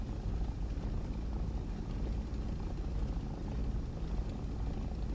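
The propeller engine of a P-51D Mustang runs during taxi, a steady low droning rumble that holds constant throughout with no talk over it.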